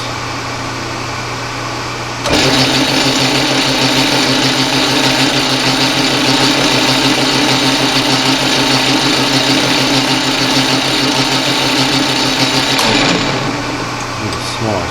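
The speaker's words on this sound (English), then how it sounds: "I'm going to drill this, and we're going to drill this tapping size for" A small drill press bores a tapping-size hole for a 2-56 screw. The motor whirs up loud and steady, runs about ten seconds, then spins down over a quieter machine-shop hum.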